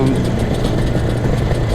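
IZh Jupiter 400cc motorcycle with twin carburettors, its engine running with a steady close throb, while a person talks over it.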